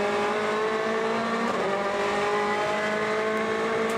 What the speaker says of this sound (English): on board with Ingram, accelerates out of the corner